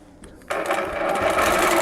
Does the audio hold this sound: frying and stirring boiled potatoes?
no